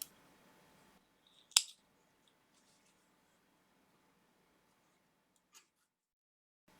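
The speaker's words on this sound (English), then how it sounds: "cut your yarn" A single quick, crisp snip of scissors cutting yarn for a crochet earflap hat, close by in an otherwise quiet room, with a fainter click later on.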